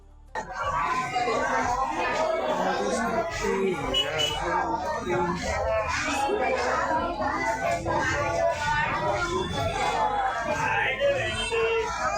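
Dense crowd bustle at the Thursday weekly market in Wadali Bhoi, with overlapping voices, children's chatter and busy street noise, continuous and close, under a speaking voice.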